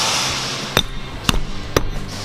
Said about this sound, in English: tap him down with a hammer